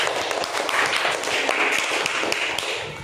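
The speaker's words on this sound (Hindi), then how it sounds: "तालियां बजाओ।" A classroom of children claps their hands together in a dense, steady patter of loud, rapid claps lasting several seconds.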